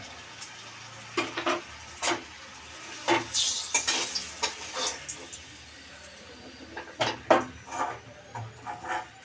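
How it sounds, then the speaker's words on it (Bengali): Cauliflower and pumpkin pieces frying in a wok, with bursts of sizzle and spatula scrapes and stirring knocks at an irregular pace, close and moderately loud, with no talking. "কড়াইয়ে হচ্ছে কি গোটা কুমড়ো ভাজা"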